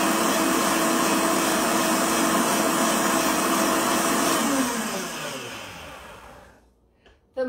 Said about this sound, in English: We'll give it a spin in the blender and see what it does